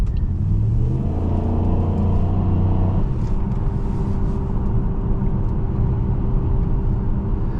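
A 2008 Pontiac Grand Prix GXP with a V8 accelerates hard from inside the cabin, a loud steady engine drone rising in pitch for about three seconds and then settling into a constant rumble.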